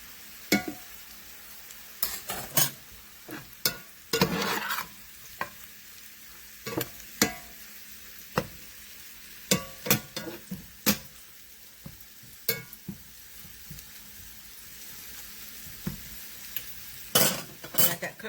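Backyard nettle greens sizzle steadily as they cook down in a pan, while a utensil stirs and knocks against it in frequent, irregular sharp clinks close by.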